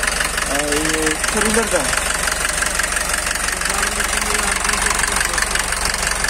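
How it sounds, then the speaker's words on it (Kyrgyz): Sprinter van engine running at idle with the hood open, a steady close-up mechanical drone throughout while someone talks over it. "Мотор жүрүп турат."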